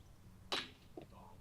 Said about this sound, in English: Donk, that is not the good sound you want to hear when putting